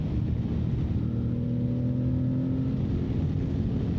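An Aprilia Tuareg 660 adventure motorcycle accelerates on a mountain ride, its engine a steady, rising drone heard from the rider's position with rushing wind, continuous and fairly loud throughout.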